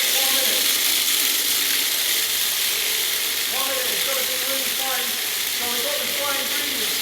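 A food processor chops 70% dark chocolate drops with a continuous loud rattling, whirring churn as the hard pieces are thrown against the blade and bowl, steady throughout and close, with faint talk beneath.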